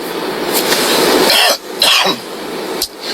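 Several harsh, loud coughs in a row, close to the listener, with short breaks between the bursts and no talking.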